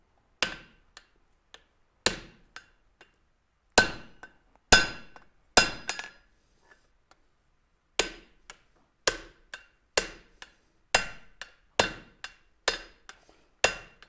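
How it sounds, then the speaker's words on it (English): A treadle hammer forging hot metal strikes in sharp, ringing metallic blows, some single and some in quick pairs, spaced irregularly with quiet gaps between, close and loud with no talking. "I really love controlled forging."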